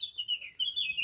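A bird chirps outdoors in a thin, high, steady twittering line that wavers and briefly breaks off, fairly close and clear over faint background noise.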